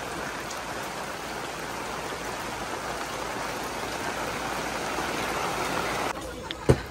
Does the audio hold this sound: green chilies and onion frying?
no